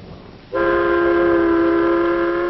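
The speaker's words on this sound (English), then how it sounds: "Ride the elevated train, all the way from the Battery far uptown." An elevated train in New York sounds a sustained, loud horn or whistle that starts abruptly and holds a steady multi-tone chord over faint rumble.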